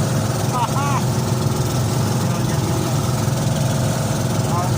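Twin boat engines drone steadily and loudly throughout, a constant mechanical hum with a few brief chirpy squeaks over it.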